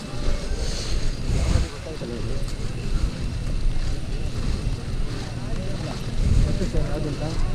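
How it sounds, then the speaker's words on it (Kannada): The monsoon-swollen Bhadra river near a hanging bridge in Kalasa rushes past forcefully, a loud broad roar buffeted by wind on the microphone, while people talk nearby over it. "ನೀರು ಏನು ಫೋರ್ಸಲ್ಲಿ ಹೋಗ್ತದೆ ನೋಡು"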